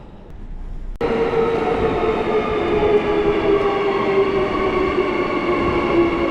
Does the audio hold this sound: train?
yes